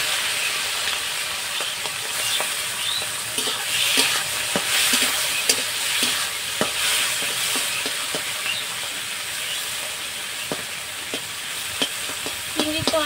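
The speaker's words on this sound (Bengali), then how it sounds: "তেলটা গরম হয়ে গেছে, আমি চিংড়িগুলো ভেজে নিচ্ছি।" Prawns fry in hot oil in a home kitchen, a continuous bright sizzle with crackles and occasional spatula scrapes and stirring clicks, close by and with no voices.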